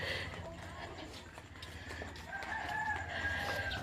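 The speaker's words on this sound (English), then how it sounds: "You probably get used to the roosters." Roosters crowing at sunrise on Malapascua island in the Philippines, a drawn-out crow rising in the second half over a steady outdoor village ambience with low rumble.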